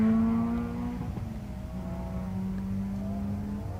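A rally car pulls away at the start of a stage, its engine droning steadily with a rising then settling pitch, fairly close at first and holding a continuous hum.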